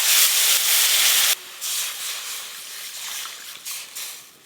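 Kasundi mixed with water poured into hot mustard oil: an abrupt loud hiss and spit of steam that cuts off, then a fainter uneven sizzle settling down, close and without speech.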